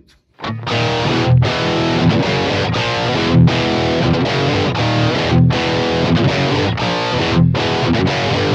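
Heavily distorted electric guitar through a Marshall-style amp emulation (distorted channel, MS Brit setting) chugs through loud, crunchy chords in a steady rhythmic pattern with brief pauses, thick and saturated, no voices.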